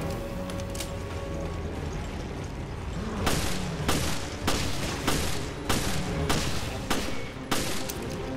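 Gunfire from enemies in the video game Resident Evil: Revelations: a run of sharp, loud shots at irregular intervals, each a broadband crack over a steady game background, with no talk.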